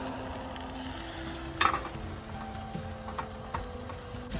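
A burger patty sizzles in a frying pan at a van cooking setup, a steady soft crackle with a brief louder spatter partway through and faint ticks; no talking.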